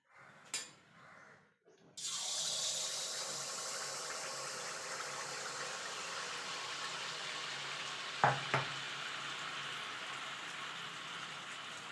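A ladleful of pitha batter (teler pitha) drops into hot oil and erupts into a loud, steady sizzle and crackle that holds continuously, with a couple of brief clinks partway through.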